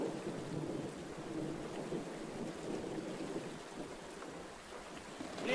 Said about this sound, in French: on dirait qu'il va pleuvoir.